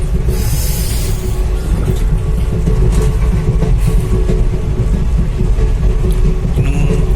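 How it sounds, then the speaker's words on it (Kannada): Steady low rumble of a moving train, a continuous rolling roar with hiss on top, close and constant throughout. "ಟ್ರೈನ್ನ ಸೌಂಡ್ ಉಂಟು"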